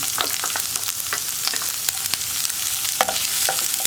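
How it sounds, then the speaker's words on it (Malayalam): Crushed ginger, garlic, pepper, cumin and curry leaves sauté in hot oil, giving a steady close sizzle with intermittent scraping stirs of a spoon in the pan. "ഇതൊന്ന് വഴറ്റിയെടുക്കാം"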